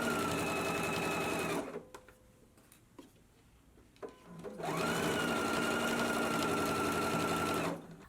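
A sewing machine runs in two long, steady bursts while stitching a neckband onto a dress, loud and close, with a quieter gap between them filled by faint handling noises.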